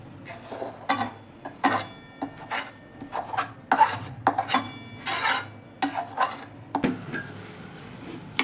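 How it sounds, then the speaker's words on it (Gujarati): A spoon scrapes and stirs a jaggery mixture into roasted ginger in a pan, giving repeated rhythmic rasping strokes with metallic clinks, close and fairly loud, and no talk. "આ મિશ્રણને આપણે જે આદું શેક્યું હતું એની અંદર મિક્સ કરી દઈશું"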